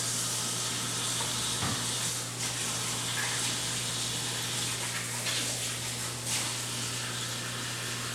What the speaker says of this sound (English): Wash my hands real quick.